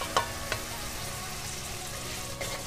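Ginger, garlic and green chilli paste frying with spices in a pan, a steady close sizzle with a few sharp stirring scrapes near the start and end, no voices.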